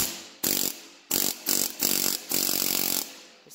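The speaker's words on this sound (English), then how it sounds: "This is what it sounds like when you got a chisel in there." Pneumatic air hammer with a chisel fitted, firing in several loud, close bursts of rapid rattling hammering, each lasting about half a second, separated by short pauses.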